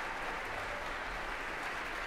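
An audience in Symphony Hall applauds after an orchestra and chorus concert, a soft, even wash of many hands clapping from across a large hall, sustained and fairly distant.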